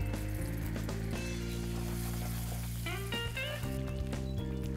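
Caramel cooking in a pan with added cream, butter and salt bubbles and sizzles steadily at close range, while a loud continuous hum runs underneath and brief clinks ring out.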